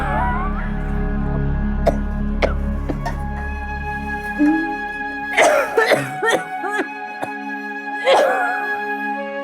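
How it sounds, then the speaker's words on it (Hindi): A few harsh coughs burst out in short clusters over a steady low hum, with brief pauses between bouts. "कितनी खांसी हो रही है आपको?"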